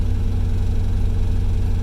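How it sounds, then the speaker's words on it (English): A worn-out Chevrolet Camaro 305 V8 idles rough and uneven with a misfire, a steady low rumble close by with a lumpy, stumbling pulse and no voices. "Hear how rough that idle sounds? That's a misfire."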